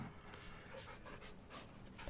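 A dog pants steadily in the game Remnant: From the Ashes, a faint, continuous breathy rhythm that runs for about two seconds with no speech over it.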